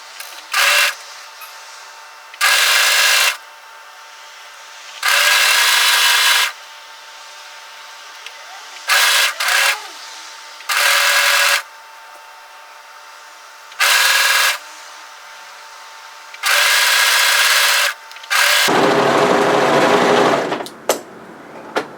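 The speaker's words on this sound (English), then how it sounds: "So overlock those together up this long straight edge, making sure the seams match here." An overlocker stitches the long straight edge of a hoodie, joining two pieces with matched seams. The close, loud whirring comes in about nine separate bursts of one to two seconds each, with short pauses between them and no talking.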